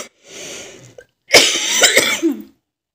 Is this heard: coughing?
yes